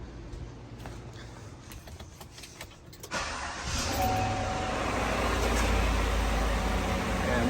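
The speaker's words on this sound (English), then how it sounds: "I'll go ahead and start the vehicle here" A Chevy GMC vehicle's engine cranks and catches, then settles into a steady idle with a low rumble, close by and alone after a few faint clicks.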